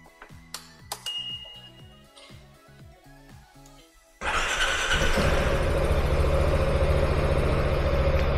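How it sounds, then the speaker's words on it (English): A Piaggio MP3 530 scooter first gives a series of electronic beeps and chimes, then its engine starts abruptly and settles into a steady, loud, close idle that runs to the end. "So I'll just start the bike up."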